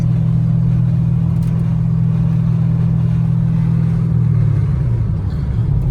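A cammed Camaro SS riding on 24-inch wheels drives and accelerates, its engine a loud, steady low rumble that holds throughout before shifting pitch near the end, with no one speaking.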